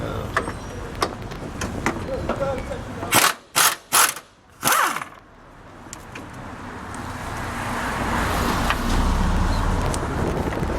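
A 14 mm ratchet wrench working engine bolts on a 1997 Honda Civic during a partial engine rebuild: four quick, loud ratcheting bursts in a row mid-clip, set against quieter workshop noise that rises into a steady roar afterward.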